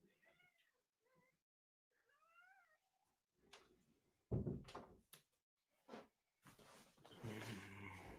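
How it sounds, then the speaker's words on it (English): A cat meows repeatedly nearby to be let in, several short plaintive cries in the first seconds, followed by a door opening and louder household clatter and movement. "I got to let the cat in."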